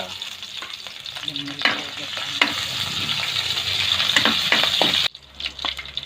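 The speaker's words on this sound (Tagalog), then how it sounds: "may mantika na po nilagay sa kawali magigisira po ng luya" Ginger sautéing in hot oil in a pan crackles and sizzles loudly and continuously, with occasional spatula clacks, before the sizzle drops away near the end.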